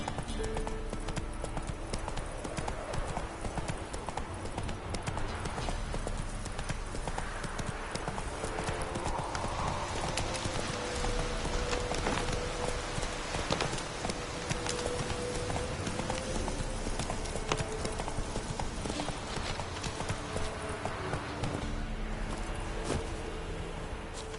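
Roach the horse gallops steadily in The Witcher 3, rapid rhythmic hoofbeats pounding throughout with an occasional whinny, close and continuous, with a few short spoken words in between.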